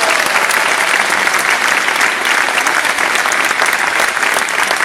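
A large audience at a political rally applauds vigorously, a loud, dense wash of clapping that stays constant from start to finish.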